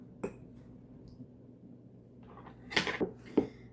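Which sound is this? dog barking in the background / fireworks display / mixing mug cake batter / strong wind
mixing mug cake batter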